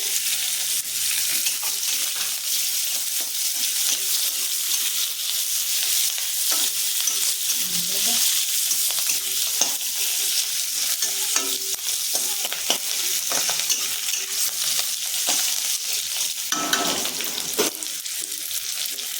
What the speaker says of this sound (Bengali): ফোড়নে দিব আমি জিরা, গোটা গরম মশলা, তেজপাতা, শুকনো লঙ্কা, পেঁয়াজ কুচি